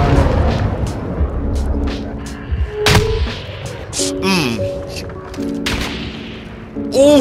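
Loud bursts of gunfire in an online search-and-destroy shooter match, sharp repeated shots with booms and mechanical effects, voices talking over the action.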